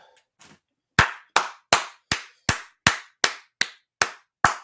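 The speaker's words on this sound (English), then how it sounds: "Let's clap it up." A group clapping hands in unison, about ten sharp, evenly spaced claps in a steady rhythm, loud and close, after a couple of faint scattered sounds at the start.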